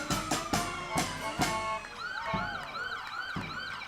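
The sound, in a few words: Brewster Ambulance siren in Quincy Flag Day parade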